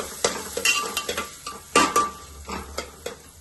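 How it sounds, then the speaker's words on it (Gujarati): A spoon stirring coriander-cumin powder, turmeric and salt together in a metal pot while making kadhi-khichdi, a run of sharp clinks and scrapes at an uneven pace, close and fairly loud, with no voice. "એક ટેબલ સ્પૂન હળદર પણ એડ કરીશું અને મીઠું સ્વાદ મુજબ એડ કરવાનું છે આ બધું આપણે મિક્સ કરી દઈશું"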